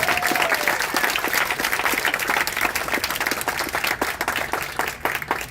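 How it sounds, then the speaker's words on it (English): A gathered audience applauds at a life celebration for a father, many hands clapping in a dense, lively burst with a few sharper claps standing out near the front, steady from start to finish. "If he was ever a good role model or a father figure for you, give him some applause."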